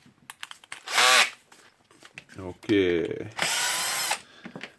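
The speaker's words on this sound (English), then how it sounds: "It's a handle cover here, so 3 screws here, so I need to unscrew them." Power screwdriver bursts unscrewing three PH2 screws from the handle cover of a Makita HR2470 rotary hammer drill: two loud whirring runs, the second longer, separated by a brief spoken word and mechanical clicking.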